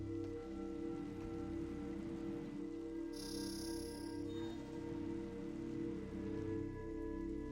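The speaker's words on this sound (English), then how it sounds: "You see the little rain effect on the visor?" Soft, steady patter of in-game rain on a helmet visor in Metroid Prime 3 over a constant low hum, with a brief bright tonal chirp partway through; no voices.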